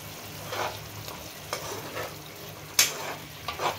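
Garam masala frying in hot ghee while a paneer curry cooks, with a soft steady sizzle and a few stirring scrapes and bursts, one sharper crackle near the end, close and fairly quiet.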